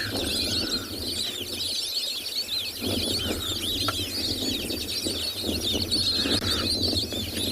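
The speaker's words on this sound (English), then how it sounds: "how's the noise from those white-faced whistling ducks?" A dense chorus of white-faced whistling ducks in South Africa calls continuously, many high thin whistles overlapping steadily at moderate loudness with no talking.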